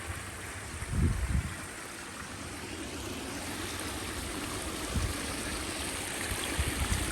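Water after heavy rain flows across exposed rock beside a damaged pond, making a steady broadband rush throughout with a couple of soft low thumps near the start.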